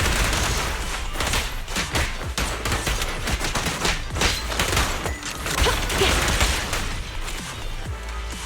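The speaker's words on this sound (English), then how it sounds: "Suppressor K-22! Maximum firepower!" Sustained rapid gunfire from the Suppressor K-22 weapon in the action video game Zenless Zone Zero, a loud dense fusillade of overlapping shots and impacts running continuously without pause.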